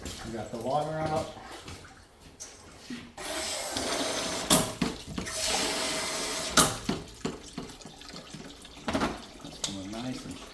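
Water rushes steadily from a water heater's safety relief valve being blown off, a broad hissing flow that starts a few seconds in and keeps going, with people talking over and around it.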